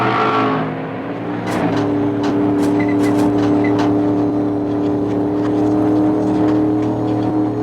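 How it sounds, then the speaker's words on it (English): Racing cars in a video game drone steadily with a sustained engine hum and whine, held fairly low in the mix, with a few brief higher bursts early on and no talking over it. "The cars won't be obnoxiously loud, but you will still hear them."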